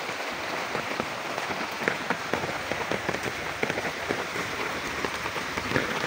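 Continuous rain falls steadily and close by, a dense hiss of drops pattering on surfaces with no pauses and no voices.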